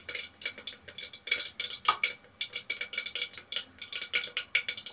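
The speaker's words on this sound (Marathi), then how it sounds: "फोडणी ही चांगली तडतडलेली आहे." Mustard seeds and a pinch of asafoetida tempering in hot oil, with a steady run of bright, dense crackling and popping pops throughout, close and fairly loud, no voices.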